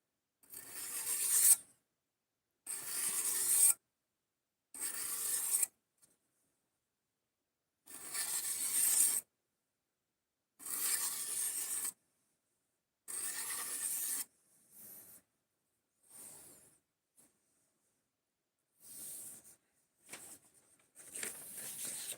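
A burr is filed off metal in repeated bursts of harsh rasping strokes, each lasting about a second with short silent gaps between them, the strokes growing shorter and lighter toward the end.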